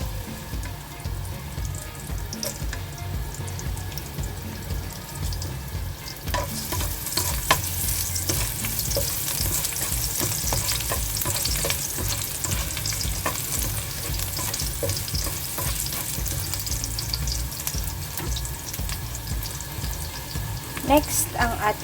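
Chicken sautéing in a pan, a steady sizzle with scraping and stirring strokes, starting fairly soft and growing louder and brighter partway through.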